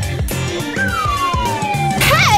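A phone app imitating a kitten gives a loud, close electronic meow that slides downward, followed by a shorter wavering mew, over background music.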